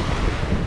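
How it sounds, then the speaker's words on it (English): Wind and choppy waves on the Mediterranean Sea around an inflatable Sea Eagle 385fta FastTrack Angler kayak in a 15 mph breeze, a brief loud rush of wind noise over the microphone mixed with broad wave wash. "the wind is about 15 miles per hour"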